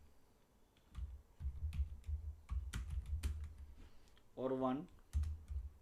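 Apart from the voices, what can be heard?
typing an SQL query on a computer keyboard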